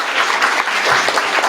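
Brief burst of audience applause at a startup pitch event, a close, even patter of many clapping hands lasting under two seconds with no voices.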